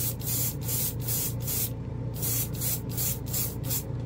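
An airbrush sprays Vallejo Game Air acrylic paint in about ten short, evenly spaced hissing bursts, heard close and alone.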